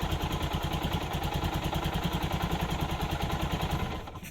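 An Armstrong MT500 motorcycle engine with a rebuilt Dellorto PHF34 carburettor runs without choke, a steady rapid thumping idle heard up close, continuous until it fades slightly at the very end.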